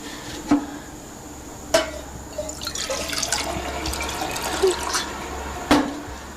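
Water poured into a glass for drinking in a domestic scene, a splashing, trickling stream in the middle with sharp clinks of a vessel before and after, close and fairly loud, no talk.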